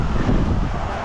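Strong wind buffeting the microphone on a road cycling ride toward Tagaytay, a steady loud roar of rumbling low-end noise with no break across the moment.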